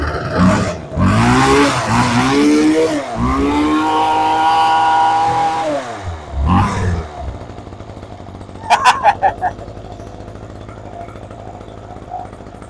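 An Einhell petrol hedge trimmer's small two-stroke engine revs loudly up and down in several rising and falling bursts, then drops to a rough idle, followed by a short burst of clicking or clattering near the end.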